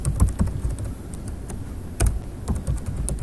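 Rapid typing on a computer keyboard during a GIS presentation, with dense irregular key clicks and a few louder strokes, close and steady with no talk over it.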